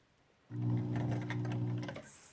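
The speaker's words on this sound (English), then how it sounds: "We're stitching to the corner, slowing down and carefully keeping the needle at the same distance as we go" A sewing machine stitches a cloth face mask toward a corner, running slowly as one smooth, close motor hum with rapid needle clatter for about a second and a half before stopping.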